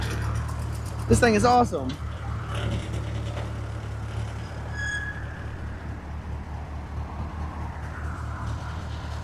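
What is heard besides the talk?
1948 Willys vehicle running during ride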